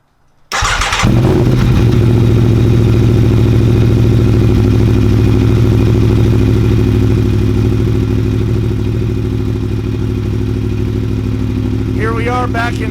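An Aprilia Tuono motorcycle with an Akrapovic exhaust, baffle removed, cranks and fires up after a moment of silence, then settles into a loud, steady, rumbling idle that holds close and constant to the end.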